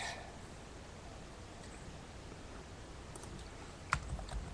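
Computer keyboard typing during a live online call, a steady stream of soft, quick key clicks close to the microphone over a hiss of background noise, with a sharper knock near the end.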